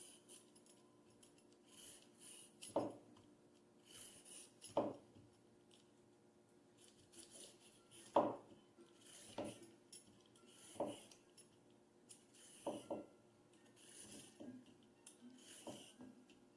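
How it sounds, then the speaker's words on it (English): Carrots being peeled into a garbage bowl: a series of short scraping strokes with clicks at irregular intervals, close by and fairly quiet, with faint background hum. "so that I can peel my carrots"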